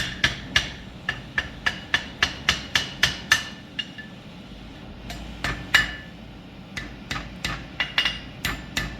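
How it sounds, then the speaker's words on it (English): A blacksmith's hammer rings repeatedly on a chain link against an anvil during forge welding: sharp metallic strikes in a quick, even rhythm, with a brief pause midway before the blows resume, close and clear. "You can see I'm hitting on this part so I'm welded"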